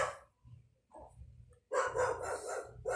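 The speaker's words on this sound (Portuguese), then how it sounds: "tá cachorrinho chato, viu?" A small dog barks in short bursts, sharp close yaps with pauses between, ending in a louder run of rapid barking.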